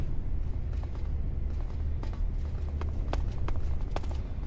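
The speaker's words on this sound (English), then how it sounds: "I think all the steps I'm hearing are upstairs" Faint, muffled footsteps from an upper floor in Metal Gear Solid 3, scattered taps and creaks over a steady low ambient hum, no talk.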